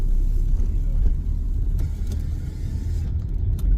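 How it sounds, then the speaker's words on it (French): A car rumbles past nearby, a low steady engine roar that swells and fades slightly, with no talking. "Attention voiture."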